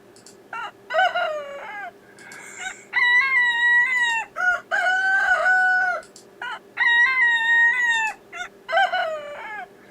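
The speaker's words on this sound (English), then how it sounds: "I just randomly pulled some rooster sounds, and these don't quite match up all that great." Several rooster crows spliced together in audio software, each a loud harmonic call with a rising-then-held contour, repeating in quick succession with brief gaps and slightly mismatched joins, no voices present.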